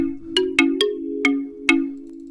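A steady two-note synth chord sustains throughout, with several bright plucked notes struck over it at uneven intervals, clean and close.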